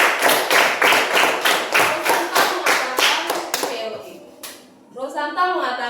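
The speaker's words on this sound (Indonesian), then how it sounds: "tepuk tangan untuk Rosa." Short bursts of hand clapping from a small group in a classroom or tutorial setting, fairly close, a steady run of claps fading out after about four seconds, followed by a brief murmur of voices.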